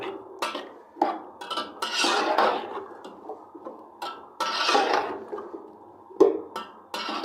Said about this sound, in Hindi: वेजिटेबल को इस मसाले के साथ थोड़ा भूनेंगे